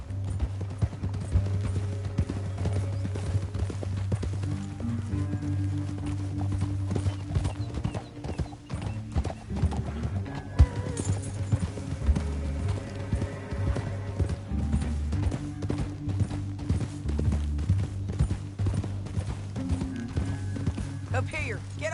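Horses gallop in the Western video game Red Dead Redemption 2, rapid rhythmic hoofbeats clopping steadily under frequent dialogue, with an occasional whinny.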